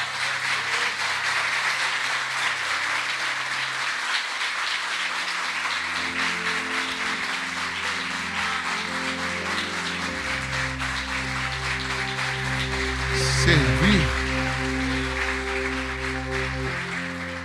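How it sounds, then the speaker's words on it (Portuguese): Church congregation applauding during a worship service, steady broad clapping that fills the space, heard over sustained music that continues underneath, with a brief swell near the end. "Vocês podem aplaudir o Senhor Jesus por isso?"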